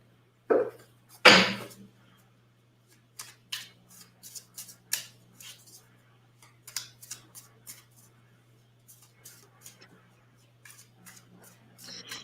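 Reading cards are shuffled and laid out, giving a couple of sharp riffling bursts followed by a scattered series of light taps and slaps, close and fairly quiet.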